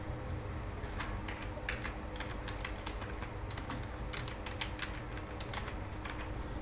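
Keys clatter on a computer keyboard as a product section title is typed, clustered bursts of crisp clicks with short pauses between words, close and moderately loud over faint background noise, with no talking.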